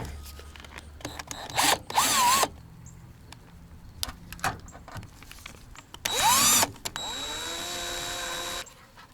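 A power driver runs screws in while a camera is mounted in a Daihatsu Hijet, giving two short, loud whirring bursts a few seconds apart, followed by a steady, fainter motor whine.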